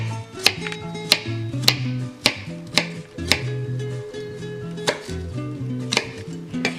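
Onion and tomato being diced on a cutting board, with sharp, evenly spaced knife chops of about one per half-second, close and clear over faint background music, no talking.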